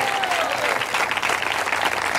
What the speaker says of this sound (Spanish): Dele fuerte ese aplauso.